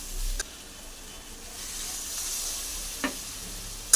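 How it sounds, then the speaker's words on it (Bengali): A kabuli chickpea masala sizzles softly in a pan as small splashes of the chickpea boiling water are added, a low steady hiss with a few brief stirring knocks and clatters. "একটু জল দিয়ে একটু কষিয়ে নিচ্ছি"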